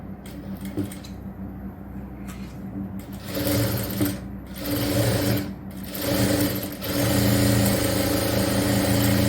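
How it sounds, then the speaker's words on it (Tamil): A tailoring sewing machine stitching a double-colour triple-frill nighty, whirring steadily in bursts that surge louder in the second half, up close with no speech. "இதில் சென்டரில் ஒரு தையல் தைக்கலாம்"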